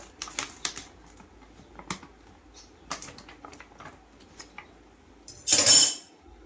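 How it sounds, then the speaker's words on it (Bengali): Scissors snip open a plastic food packet in a kitchen, a series of small crisp clicks and rustles followed near the end by one louder, longer crinkling tear of plastic close by, with no talking. "এই যে প্যাকেটটাকে কেটে নেব আমি এইভাবেই কেটে নেব কাঁচি দিয়ে"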